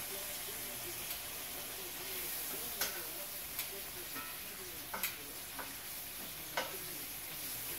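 Bacon frying in a pan, a steady background sizzle and hiss with a few sharp pops and crackles scattered through it.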